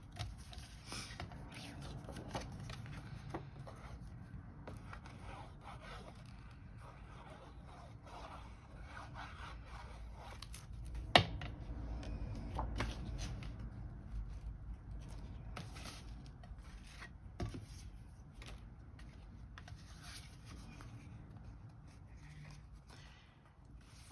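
A paper insert being pressed and rubbed down inside a handmade birthday card: soft, continuous papery rubbing and scraping up close, with an occasional sharper tap.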